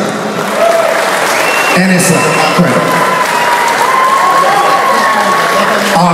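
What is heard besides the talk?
wedding guests applauding the host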